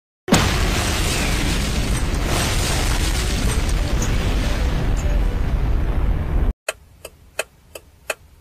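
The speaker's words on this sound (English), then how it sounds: "I cannot believe that those eggs exploded." Exploding Easter eggs let out a loud, sustained roaring blast lasting several seconds. It cuts off abruptly, and a few crisp, evenly spaced ticking clicks follow.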